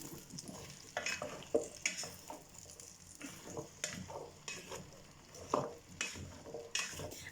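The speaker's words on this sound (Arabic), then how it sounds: "وغادي نضيف ليها خيزو والبطاطا، كنشحر فيه هادشي مزيان" Carrots and potatoes sautéing in a pot for pumpkin soup, with a soft steady sizzle broken by repeated scraping stir strokes at an uneven rhythm, close and moderately quiet, with no talking.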